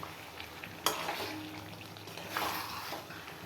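Chicken and potatoes cooking down in a pan as the water reduces, giving a soft continuous sizzle and bubbling with a couple of sharp utensil scrapes.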